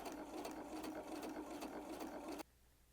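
Sewing machine running a regular-length straight stitch seam, a steady close mechanical whir with rapid needle ticking that stops abruptly before the end, leaving quiet hum.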